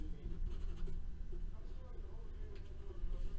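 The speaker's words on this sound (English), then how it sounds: "I gotta write that down" A pen scratches across paper in short irregular strokes, quiet and close, under a low room hum with a voice talking in the background.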